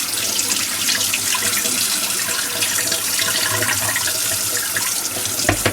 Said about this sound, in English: Now I'm going to go ahead and drain this water off.